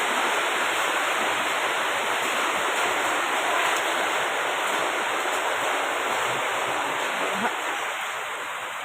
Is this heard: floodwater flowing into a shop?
yes